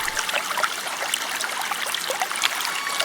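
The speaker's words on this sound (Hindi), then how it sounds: "पानी इतना तेज था कि वो अंदर नहीं जा पा रहा था" Rushing floodwater flowing strongly, a continuous hissing, splashing wash of water at a steady moderate level with no voices.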